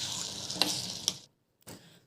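Jackfruit sautés in ghee in a small tempering ladle, giving a close, soft sizzle with a couple of light metallic ticks from stirring, then a brief pause and a short burst of sizzle.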